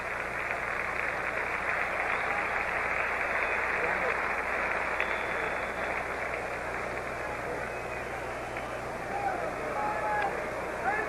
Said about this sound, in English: let's send these youngsters to the division championship competition with a nice round of applause